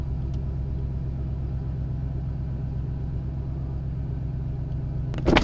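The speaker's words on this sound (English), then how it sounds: "And the stock exhaust cold start. All windows up." Ram TRX with its stock exhaust on a cold start, heard from inside the cab with all windows up: a steady, muffled low engine rumble that is idling throughout, with a brief bump at the end.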